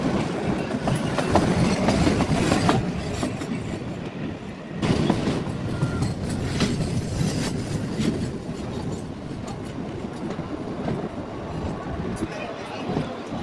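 Shimla toy train on the narrow-gauge mountain line, a steady rumble with rhythmic clickety-clack of wheels over rail joints and a brief wheel squeal, continuous and close as if heard from inside a carriage.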